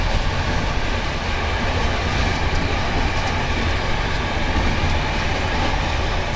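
Loud, steady rumble of an around 40-year-old communist-era train rolling along the rails in Bulgaria, a continuous rattling roar heard from inside the carriage with no break.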